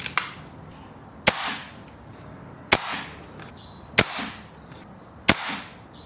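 A BRK Ghost air rifle fires pellets, four sharp cracks evenly spaced about every 1.3 seconds, each with a short ringing tail, clearly heard against a quiet background with no talking.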